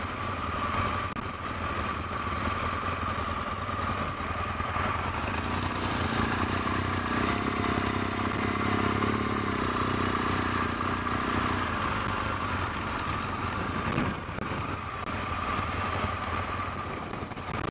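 An Italian motorcycle engine runs steadily and close by for the whole stretch, a continuous mid-pitched idle with a slight rise in the middle, alone with no voices over it.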